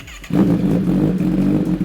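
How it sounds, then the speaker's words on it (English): A Kawasaki ZX-10R motorcycle with an Arrow Pro Race titanium exhaust idles loudly and close up, a deep, throaty rumble that kicks in abruptly and holds steady. "So go ahead and let's see what idling is."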